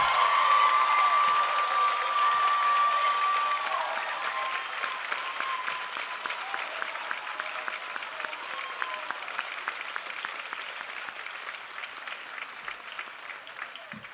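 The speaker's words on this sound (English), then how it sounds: "How about another round of applause for those who are promoting?" Audience applause at a middle school awards ceremony, sustained clapping from a crowd that starts loud and gradually thins out over about fourteen seconds.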